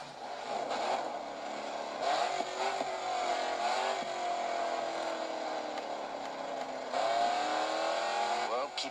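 Race car engine held at full throttle in the Grid 2 racing game, a loud sustained drone with rising and falling pitch as gears shift, running continuously with a voice talking over it.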